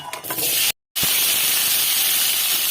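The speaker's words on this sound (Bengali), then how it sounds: "এবার দিয়ে দেবো কড়াইতে সর্ষের তেল। এবার আলুগুলো ভেজে নেব" Potatoes fry in hot mustard oil in a kadai, producing a loud, continuous sizzling hiss that drops out briefly and then returns steady and close.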